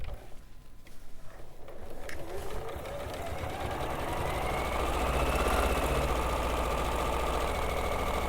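Sewing machine stitching a double line of a flat fell seam, a steady mechanical whir that builds after the first couple of seconds and then runs continuously, close and fairly loud, with some voices in the background.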